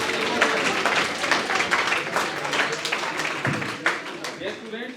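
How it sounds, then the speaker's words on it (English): Students at a School of Management Studies lecture on business plan preparation clapping at the end, a sustained crowd of applause that carries steadily throughout, with some voices mixed in. "Clap for yourself, don't clap for me."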